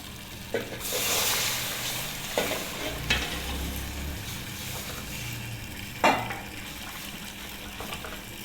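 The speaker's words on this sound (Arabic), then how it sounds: "احس ان الدقيق بيخروش معايا عشان يبقى له ريحه" Flour frying in fat in a pot for béchamel sauce, with soft continuous sizzling and occasional scraping stirs and clinks of a utensil against the pan, close and fairly quiet.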